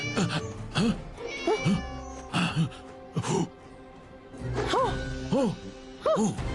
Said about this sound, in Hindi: अगर हमें सामुराई बनना है तो हमें इस बिल्ली को खुद ही बचाना होगा